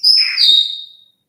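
A single bird chirps once, a clear bright whistle-like call lasting about a second, close and alone, with no talk over it.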